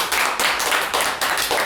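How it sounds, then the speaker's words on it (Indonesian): Group of people clapping hands together after presentations about the Culling Game, dense broadband claps in steady bursts with brief dips between them, fairly close and loud. "Oke, tepuk tangan dulu buat kita semua."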